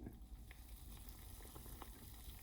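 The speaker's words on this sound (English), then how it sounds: "This is a boil." A pot of water on the stove comes to a rolling boil for Southern sweet tea, a steady faint bubbling and hiss with soft pops throughout and no voices.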